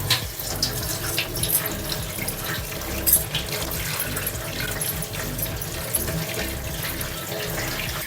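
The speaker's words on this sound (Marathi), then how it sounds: "अजून एका पाण्याने धुवून घेऊया आपण" Tap water runs steadily over gaboli, a fine monsoon wild vegetable (ulshi or chai blossom), being rinsed again in a sieve: a continuous close rushing splash with no pauses.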